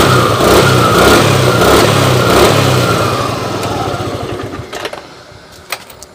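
A Suzuki motorcycle with a vacuum carburetor, such as a Nex, Spin or Satria, runs loud and close at revs, then the engine note drops toward a lower idle with some faint clicks near the end.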